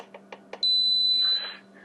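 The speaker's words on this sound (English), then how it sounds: "you just reach in there and push until you hear a solid beep" A Minn Kota CoPilot unit for a PowerDrive trolling motor, pushed with the butt end of a drill bit, gives a few faint clicks and then a single solid, piercing electronic pairing beep held for about three quarters of a second.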